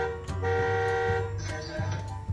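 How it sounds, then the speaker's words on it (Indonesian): Horn of a children's battery-powered ride-on toy car, a Porsche PMB 8388 or Jeep Rocky SHP Volta 5008, giving short electronic honks and tones over steady background music, close and fairly loud. "Klakson."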